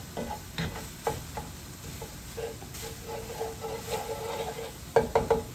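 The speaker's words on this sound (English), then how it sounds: "I think I'm gonna start adding the spinach and the tomatoes." Spinach and tomatoes added to a hot pan and stirred, soft sizzling under light scraping and tapping of a utensil, with a quick cluster of clinks near the end, fairly quiet and close.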